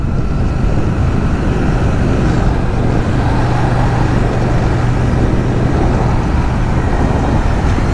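A CFMOTO 800 NK Advanced motorcycle ridden slowly through town: a steady, loud engine drone with a low hum and constant rushing noise, unbroken for several seconds and without speech.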